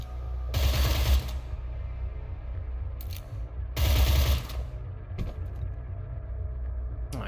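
Two loud sustained bursts of automatic gunfire in the cyberpunk tactics game Cyber Knights: Flashpoint, each lasting under a second, separated by a low rumble and a few fainter short shots.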